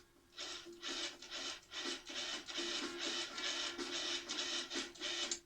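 A food processor pulsing grated cheddar into pastry dough, its motor whirring in short, even bursts with brief gaps between them, close and steady, with no talking.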